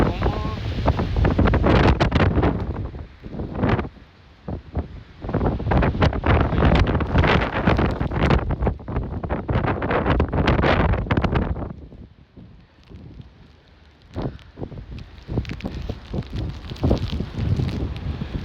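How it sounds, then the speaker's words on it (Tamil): Strong wind blowing snow roars and buffets the microphone in loud, ragged gusts, easing briefly before surging again. "இது பாருங்க காற்று எப்படி அடிக்குதுண்டு."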